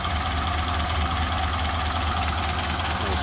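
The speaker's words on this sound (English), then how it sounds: "As you can see, very smooth running engine on this one." A 1930 Ford Model A engine idles steadily and smoothly in a Tudor sedan, a continuous close low rumble with an even throb and no voices.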